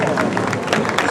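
A crowd at a veterans parade applauds in a short, continuous burst of scattered clapping, dense and fairly close.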